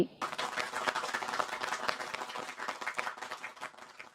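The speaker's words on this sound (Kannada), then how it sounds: "ಮಕ್ಕಳೇ, ನೀವೆಲ್ಲರೂ ಸರಿಯಾಗಿ ಉತ್ತರ ಕೊಟ್ಟಿದ್ದೀರಾ, ಅದಕ್ಕಾಗಿ ಈ ಚಪ್ಪಾಳೆ ನಿಮಗಾಗಿ." Applause from a classroom of students, a dense burst of many hands clapping steadily and close by for the whole stretch, with no talking over it.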